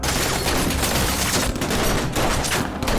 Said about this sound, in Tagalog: Habang nagkakaroon ng palitan ng putok sa pagitan ng dalawang panig